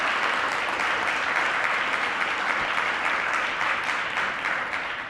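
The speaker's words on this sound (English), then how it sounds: "one more round of applause for all of our winners and all of our finalists" A conference audience gives a steady round of applause for winners and finalists, dense clapping that holds evenly for several seconds with no talk over it.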